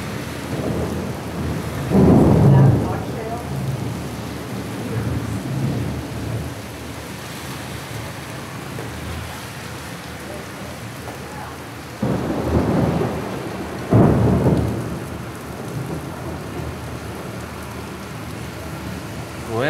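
A thunderstorm with steady rain hissing throughout, broken by two loud rumbling thunder peals, one early and another pair later, close and booming over the constant downpour.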